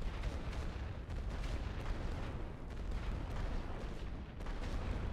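Artillery fire in the WWI strategy game The Great War: Western Front: a dense, continuous barrage of booms and blasts that rumbles loudly for the whole stretch, with no pause between impacts.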